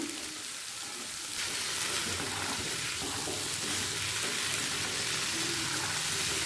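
Potato, carrot and beans fry in a pan over a medium flame, giving a steady, close, continuous sizzle that swells slightly after the first second and holds level throughout, with no talking.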